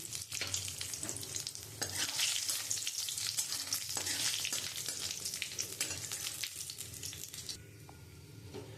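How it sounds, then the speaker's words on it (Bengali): Nigella seeds, dried red chillies and a bay leaf crackle and sizzle in hot mustard oil left from frying fish, a dense steady spluttering with occasional stirring, close and continuous before easing slightly at the end. "আমি ওই মাছ ভাজার তেলে আমি কালো জিরে শুকনো লঙ্কা আর একটা তেজপাতা আমি ফোড়নে দিয়ে দিচ্ছি"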